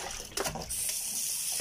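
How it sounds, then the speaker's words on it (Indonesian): Water spinach being rinsed under a running kitchen tap, a steady close wash of water with a brief splashy burst near the start, no one speaking. "Ini saya cuci, saya bilas dulu."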